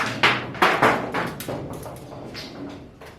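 Pecans dropped by a squirrel strike a house roof in a series of sharp knocks and thuds, several hard impacts in the first second followed by softer scattered taps, fairly close and loud.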